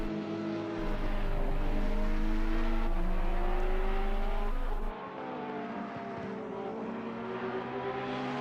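Race cars accelerating out of the pit lane at Spa in a sim racing game, including a Porsche, their engines droning and rising in pitch as they pull away at moderate loudness.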